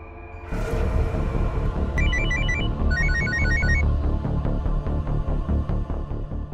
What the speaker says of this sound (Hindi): फोन उठाओ सूरज, प्लीज फोन उठाओ